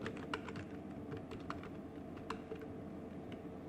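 Quick, light keystrokes patter on a computer keyboard in a quiet room, in irregular close bursts with no speech.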